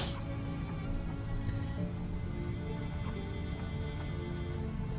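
Video game rain falls steadily, a constant hiss of drops on surfaces with a low rumbling bed beneath, even and unbroken throughout.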